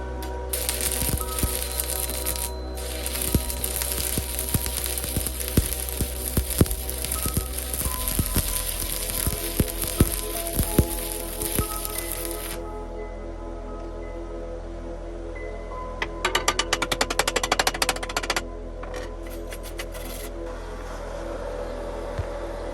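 Arc welding with a 3.25 mm 6013 rod on a budget 160 amp LITEARC DECAPOWER inverter welder, a steady crackling, sizzling buzz that runs for about twelve seconds, then stops, with a brief second burst of crackle after a pause.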